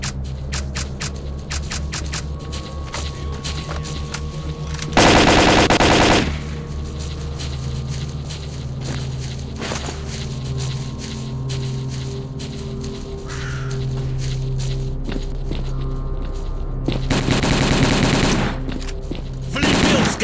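Gunfire in the S.T.A.L.K.E.R. Call of Pripyat shooter game comes as loud bursts of rapid shots, a long one early and another near the end, over a droning game background with scattered smaller noises.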